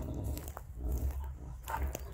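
A dog barks a few times at close range, short sharp calls over a low rumbling background outdoors.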